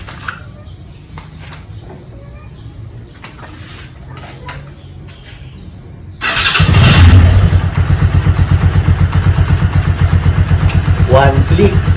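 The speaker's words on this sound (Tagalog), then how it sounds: "i-start muna natin siya para magpainit ng makina" A Keeway CR152 motorcycle engine starts abruptly after a stretch of quiet background noise with faint birds, then settles into a loud, steady, close idle as it warms up.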